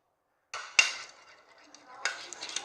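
Homemade slime stirred with a spoon, wet squelching scrapes in two short bursts against a container after a moment of silence, close and fairly soft.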